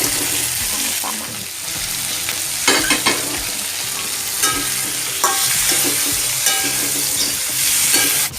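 Bean sprouts and tuna are stir-fried in a pan with chili and tomato, a steady close sizzle broken by repeated scraping and clattering of the utensil against the pan.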